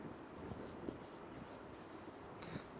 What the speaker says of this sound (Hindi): चले जी मैं यहाँ पे लिख देता हूँ